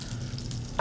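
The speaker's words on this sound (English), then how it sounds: "we want to add a little Marsala wine right into this" Marsala wine hits a hot pan of butter and olive oil, a brief steady sizzle and bubbling frying hiss, close, ending in a louder burst.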